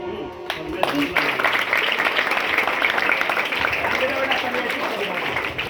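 Audience applause at a poetry recitation fills the space as a dense, steady wash of clapping throughout, with a few sharper nearby claps at the start.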